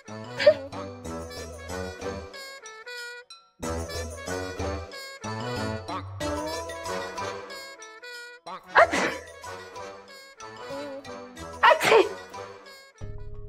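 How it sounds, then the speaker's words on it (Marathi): A woman with a dust allergy sneezes sharply a couple of times in a Marathi TV serial, with loud bursts standing out over a continuous musical background score. "ही टॅबलेट घे. तुझी शिंकही थांबेल आणि सर्दी होणार नाही."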